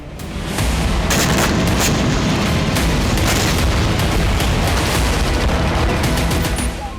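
Rapid, dense booms and blasts from Hezbollah rocket strikes on Nahariya, northern Israel, crackle continuously at high volume, a relentless barrage of explosions with sharp bursts standing out.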